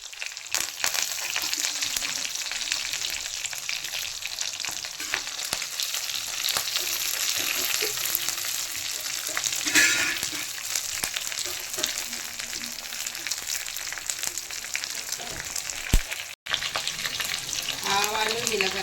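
Onions fry in oil in a pan for a puri curry, a steady, loud hiss of sizzling that runs throughout with small crackles and a brief stir near the end.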